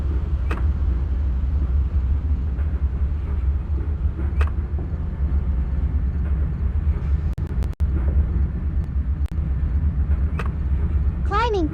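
A GE locomotive engine drones at low throttle in a simulator game, cruising downhill under 55 mph; a steady deep rumble fills the whole stretch with a few faint clicks and a brief rising tone near the end.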